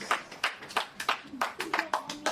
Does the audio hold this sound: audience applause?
yes